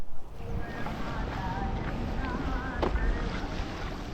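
A car and bus ferry boat at the Bagmandla jetty on the coast: steady low rumble with water wash and gusting wind noise on the microphone, continuous for the whole stretch.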